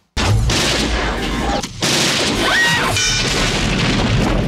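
Loud, sustained gunfire from a shootout in the 1990 film Robocop 2, with booming blasts and crashing impacts running almost continuously, a brief drop near the middle before the barrage resumes.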